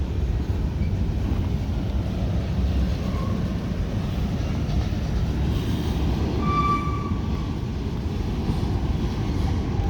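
A long CSX freight train of hopper cars rolls slowly into the yard at Cumberland, Maryland, beside the Potomac River, a steady loud rumble of wheels on rail with faint squeals and no talk.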